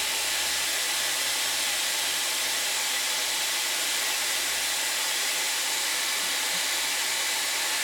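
A Dyson Airwrap hair styler blows air steadily while curling hair, a constant, close, airy hiss and whoosh that runs unbroken from start to finish with no speech.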